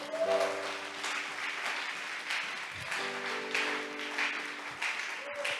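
A church congregation claps together to acclaim the Lord during a worship service, a steady spread of applause with sung voices and sustained tones rising over it.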